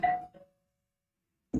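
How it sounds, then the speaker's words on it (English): Doorbell chiming indoors, a clear two-tone ding-dong with a fading ring, followed by silence and a brief burst of another sound at the end. "That's the doorbell."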